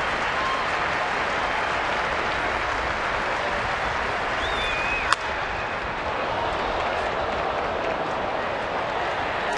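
Baseball crowd at a Minnesota Twins home game against Detroit applauding and cheering in a steady, loud wash of clapping that holds for the whole span, with one sharp crack partway through.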